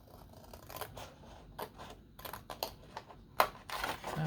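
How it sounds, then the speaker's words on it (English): Scissors snipping a thin triangular sliver from a paper folio, a string of crisp, close cutting clicks in an irregular rhythm, quiet and alone. "I'm going to cut just a sliver of a triangle"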